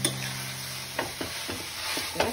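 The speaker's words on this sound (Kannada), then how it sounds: "ಇದು ಸ್ವಲ್ಪ ಫ್ರೈ ಆಗಲಿ ಒಂದು ಎರಡು ಸೆಕೆಂಡ್ಗಳ ಕಾಲ" Chopped vegetables fry quietly in a pan, a soft background sizzle with a few light scraping stirs spaced about every half second, close and unaccompanied by speech.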